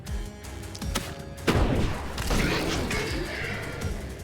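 The Mega Explosion spell in the video game The Last Spell lands with a sudden booming thump, then a rolling crackle and rumble that slowly fades over a busy in-game background.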